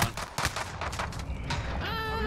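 Gunfire in Call of Duty Warzone, a burst of shots close by with dense, loud cracks over a noisy game mix, ending in a tonal ringing tail.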